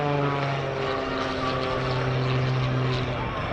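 Aerobatic propeller airplane flown through flat, knife-edge and inverted spins at the NAS Oceana airshow, a steady droning engine with strong harmonic tones, close and loud, under a commentator's voice.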